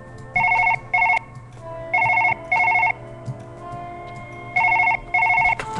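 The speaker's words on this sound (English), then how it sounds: "What's more important is that the phone is ringing." A telephone rings in Surgeon Simulator 2013 with a classic double-ring bell pattern, three pairs of bright trilling bursts separated by pauses, clear and close over a low background hum.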